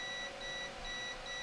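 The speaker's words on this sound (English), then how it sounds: "I'm getting a beep, which means that it's continuous when I press the button" A multimeter on continuity mode beeps while testing a Joy-Con button, giving a steady series of short, faint high beeps separated by brief gaps over a low background hiss, with no talk.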